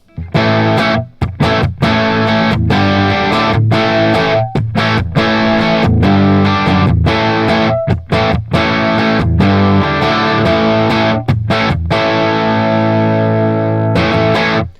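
Electric guitar through a REVV D40 Dynamis amp on its clean channel with the bright switch engaged, playing loud, sustained chords and riffs with crisp, slightly driven treble and brief pauses between phrases.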